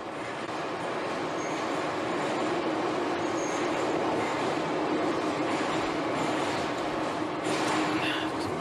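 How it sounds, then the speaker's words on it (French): A Kyiv metro train passes through an underground station, a loud, steady rumble of wheels and rolling stock that fills the space for the whole stretch, with a brief squeal near the end. "ça c'est le métro. C'est le dernier métro de la journée."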